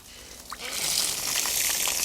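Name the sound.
rinsing plastic pool filter part with water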